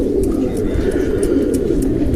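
Pigeons coo inside a dovecote in a soft, continuous low murmur of overlapping calls, close and steady, with faint scattered chirps above.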